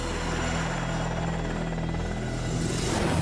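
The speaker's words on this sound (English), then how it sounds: "And here it is, the ultimate helicopter." A helicopter's steady rotor thump and engine drone, loud and continuous, holding level throughout.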